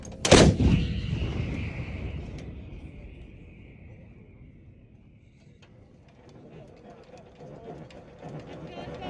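An artillery gun fires once with a huge close boom that rumbles and decays over several seconds, followed by metallic mechanism clanks as the crew works, with shouted commands around it.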